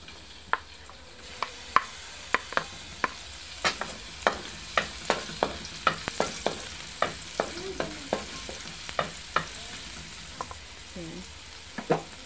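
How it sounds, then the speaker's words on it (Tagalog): Chopped garlic frying in a small amount of cooking oil in a pan, a steady quiet sizzle punctuated by frequent sharp clicks and scrapes of a utensil stirring, close and alone with no talk. "Lagay tayo ng mantika, konti lang siya. Mantika. Ayan. Lagay natin tong bawang."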